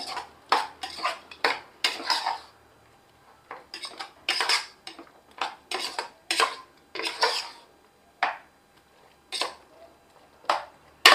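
Metal spoon clinking against a pot while mint and coriander leaves are mixed for mutton biryani, a string of sharp, close taps and scrapes in uneven bursts with short quiet gaps between them.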